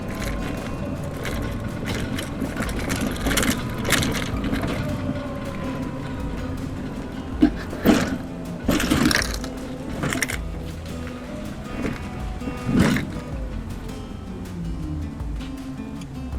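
Elwinn Hulk electric tricycle pulling up a hill without the low gear, a steady mechanical drone and whine with rattles and occasional knocks, heard close and continuous throughout.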